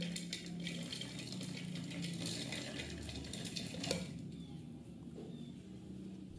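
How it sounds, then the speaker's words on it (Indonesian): Electric food chopper whirring as it chops roasted nuts in a kitchen, a steady mechanical grind with rattling pieces for about four seconds, then stopping into quieter near-silence. "Biar cepat dan praktis, aku pakai chopper aja ya."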